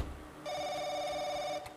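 A telephone in the horror video game The Crooked Man rings with a steady electronic trill, one sustained ring that stops abruptly, heard alone with no voices.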